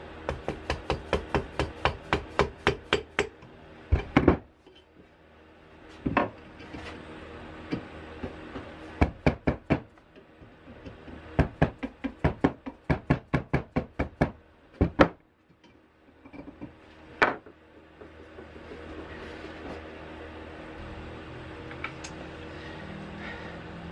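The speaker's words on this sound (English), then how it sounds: "So we're gonna get a chisel and just clean the top of this off some." A chisel trimming excess wood from the top of a hatchet handle, heard as bursts of sharp, rapid strikes and knocks in quick runs separated by pauses, with scraping and rubbing toward the end.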